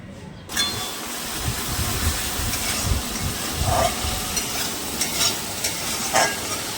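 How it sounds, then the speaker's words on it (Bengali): Ginger-garlic paste sizzling steadily in a pan while being stirred, a loud, continuous hiss close up with occasional scraping strokes and no voices. "এর মধ্যে আমি আদা রসুন বাটাটা দিয়ে দেবো। ভাজা ভাজা হোক, কাঁচা গন্ধটা চলে যাক"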